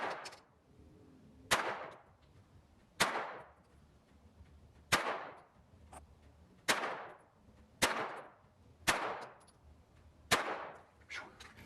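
Eight sharp pistol shots from a Glock 44 .22 LR, fired at roughly even intervals at 25 yards, each a loud crack with a brief ringing decay, and no talking in between.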